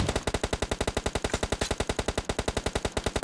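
Rapid sustained automatic gunfire in PUBG Mobile, a steady stream of loud, evenly spaced shots with no pauses, heard alone.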